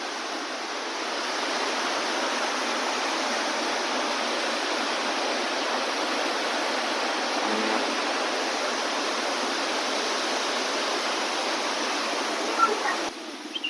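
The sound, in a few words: small waterfalls near a resort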